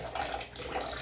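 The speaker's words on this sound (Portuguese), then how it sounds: "Botar água no angu, né?" Water splashes steadily from a tap or jug into a pot of green corn angu, a short continuous pour heard close up with no voices.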